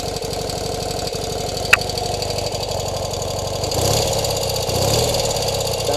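A 1972 BMW R60/5 motorcycle engine idles close by with a steady, even, putt-putt pulse, swelling slightly louder toward the end, with no talking over it.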